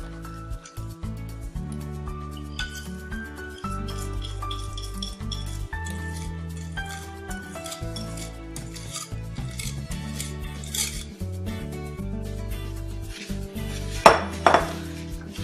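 Cake batter for a cinnamon orange cake is stirred in a bowl, with scraping and clinking of utensil against the bowl beneath steady background music and a sharper clink near the end.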